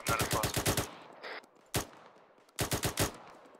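ARMA 3 game gunfire aimed at a distant sniper: rapid automatic bursts of loud, sharp shots, a single crack in the middle, then another quick burst, with no talking over it.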